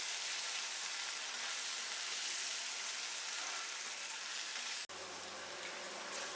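Masala spice paste sautéing in a pan for Bengali eggplant and poppy seed curry (begun posto): a steady, close hiss of frying that stops abruptly and then resumes slightly quieter.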